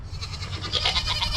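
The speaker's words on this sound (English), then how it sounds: "the smartest goat we have" Goat bleating on a farm on a rainy morning, a single wavering, nasal cry rising in intensity midway, fairly close and alone without speech.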